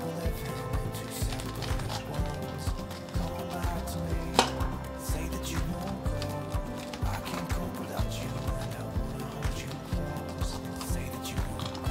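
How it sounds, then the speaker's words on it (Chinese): A knife cuts raw corn kernels off the cob with a steady run of quick, close taps on a board, alone with no talking. "把玉米切成玉米粒"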